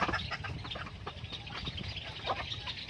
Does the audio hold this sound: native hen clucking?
yes